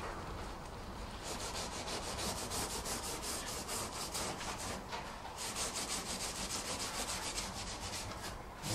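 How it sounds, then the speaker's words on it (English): A finger rubs grease out of the crevices of an oven door, producing a steady close rhythmic rubbing and scrubbing that carries on without pause. "pushing it in as far as I can to remove the grease from the nook and cranny"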